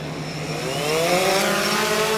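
A DJI Phantom 2 Vision Plus quadcopter drone's motors spin up outdoors, a steady, fairly quiet rising whine with faint tonal lines climbing in pitch over about two seconds, with no talking.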